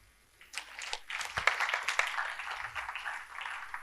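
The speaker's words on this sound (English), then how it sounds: "Clap for UBA" A workshop audience gives a short round of clapping for UBA, moderate and fairly faint, with scattered hand claps rising quickly and sustaining for a few seconds before easing off.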